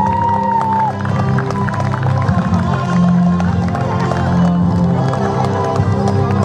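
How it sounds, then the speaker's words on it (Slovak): An outdoor crowd at a western riding competition cheers and claps as riders take an honorary lap, a busy mix of scattered clapping and voices under a steady low rumble, with a brief tone near the start. "čestné kolo našich dnešných jazdcov a samozrejme váš neutichajúci potlesk pre týchto jazdcov"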